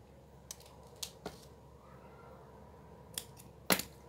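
Scissors cut ribbon while a double boutique bow is made, giving a handful of quiet, crisp snips spaced irregularly over a few seconds, the last one the sharpest.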